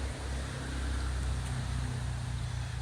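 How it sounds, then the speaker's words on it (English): Steady road traffic from a busy highway beside a historic spring, a continuous low rumble and broadband hiss with no distinct passing vehicles, heard at moderate distance. "There is a lot of traffic noise, which I apologize for"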